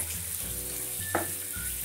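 Spicy tomato chutney fries in a pan with a steady, close sizzle and a brief stirring scrape partway through.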